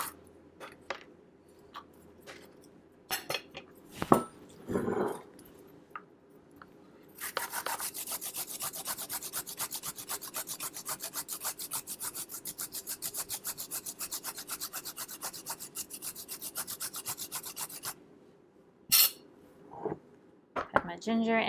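Fresh ginger is grated on a kitchen grater in a long, steady run of fast rasping strokes, preceded and followed by scattered knocks and handling noises, with no speech.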